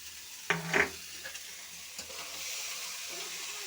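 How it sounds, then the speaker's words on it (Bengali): A few scraping clatters of a spatula in a pan, then a soft, steady sizzle of ash gourd frying that carries on quietly to the end. "এখন এই কেটে রাখা চাল কুমড়োগুলো দিয়ে দিচ্ছি"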